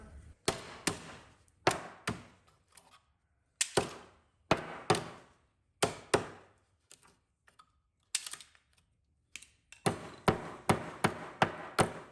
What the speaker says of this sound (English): I'm gonna hammer that out with the hammer.